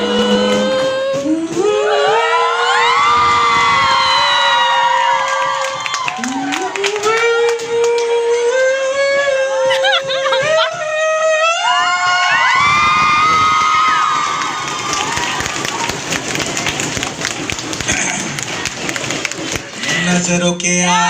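A crowd of girls shouts and cheers at a school farewell event, a constant noisy roar beneath a man singing a sliding melody, with bursts of louder shouting near the end.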